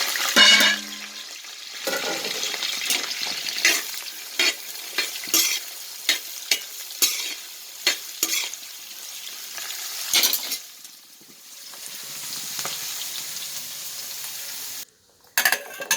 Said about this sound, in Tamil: சோம்பு, ஏலக்காய் வதங்கிட்டு இருக்கு இறால் பிரியாணி செய்யறதுக்கு.